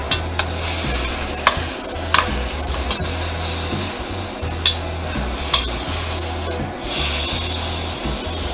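Seasoned pork browning in a pan and being turned: a loud, close sizzle with a spatula scraping and rubbing, and several sharp scrapes and knocks against the pan.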